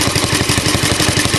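An Alpha De Laval engine drives a Century generator of the same era, a steady, loud, even chuffing beat repeating several times a second with metallic clatter, heard close up and alone.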